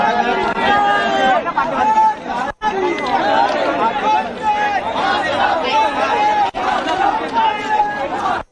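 An angry crowd protesting in Badlapur makes a dense, loud roar of many shouting voices with overlapping chatter, sustained throughout with two brief dips.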